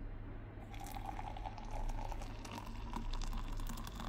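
Hot water for coffee trickles and drips softly, a faint liquid patter over a low steady hum, continuous and fairly close.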